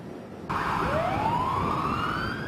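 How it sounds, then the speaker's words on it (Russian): An ambulance siren wails on a New York street near a hospital, a loud rising tone sweeping upward and holding steady after a sudden start, with city noise underneath. "В этом районе Нью-Йорка сирены скорых почти не умолкают."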